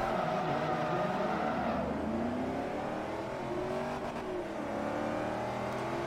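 Chevrolet Camaro with 556 horsepower in the racing game Forza Motorsport 3, its engine droning and revving steadily throughout with shifting pitch, loud and continuous with no talk.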